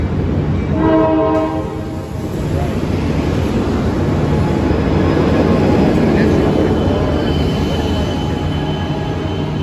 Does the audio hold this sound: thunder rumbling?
no